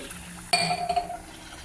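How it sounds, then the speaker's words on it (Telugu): Water poured into a pan of spicy potato curry seasoned with ginger-garlic, salt, turmeric and chili, a short splash and clink near the mic, then a brief trickle fading out. "కాస్త వాటర్ ఇప్పుడు వేసుకుని"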